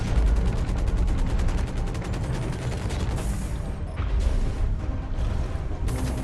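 Gunfire from mechs in the Hawken video game, a dense, loud barrage of rapid, sustained shots running through the whole stretch, with mechanical clatter and no talking.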